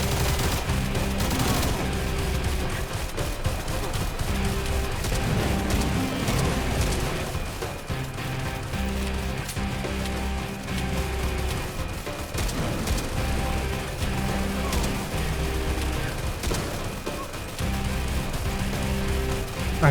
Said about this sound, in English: Стреляй по колоннам.